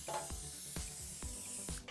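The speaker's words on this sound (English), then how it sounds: "Take a 9 by 13 pan and spray it with cooking spray." Cooking spray hissing into a 9 by 13 baking pan in short repeated bursts, about four quick spritzes close to the microphone with faint rattles between them, no talking.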